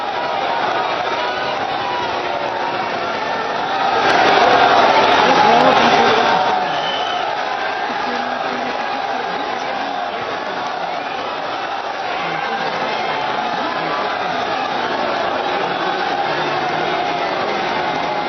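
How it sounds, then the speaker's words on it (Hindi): A large crowd at Prime Minister Narendra Modi's road show in Indore, Madhya Pradesh, makes a steady, loud, far-off roar that swells briefly into louder cheering before settling back to a constant hum. "आप भीड़ देखिए इंदौर में प्रधानमंत्री नरेंद्र मोदी के रोड शो में"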